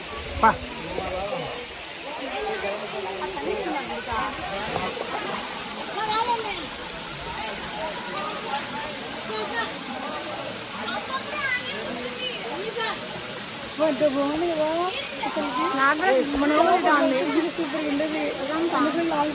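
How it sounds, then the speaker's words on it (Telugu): Water pours and splashes at the Palakonda waterfalls in Kadapa, a steady close rush that runs under intermittent talking voices throughout. "బ్యూటిఫుల్ పాలకొండల వాటర్ ఫాల్స్ చాలా బాగున్నాయి కదా"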